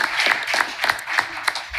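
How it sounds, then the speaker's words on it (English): An audience at a Brick Township council meeting claps for the volunteers in a short, steady round of applause, fairly close and loud. "if we could all applaud for the volunteers again"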